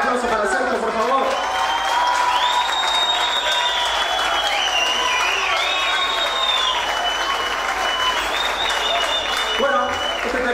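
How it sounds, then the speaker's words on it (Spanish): Loud, sustained applause from a large audience with some cheering and whistles, steady throughout before fading slightly near the end. "Fuerte el aplauso para Sergio, por favor."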